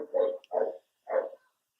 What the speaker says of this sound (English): I think the neighbors got a new dog and they are like barking at each other like crazy